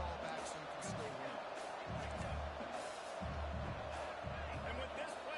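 Stadium crowd in a college football video game against Tulane, a steady distant roar with deep rhythmic rumbling pulses underneath, continuous throughout.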